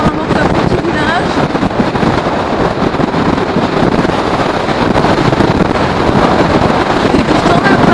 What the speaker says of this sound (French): Il y a beaucoup de vent, vous allez entendre au micro.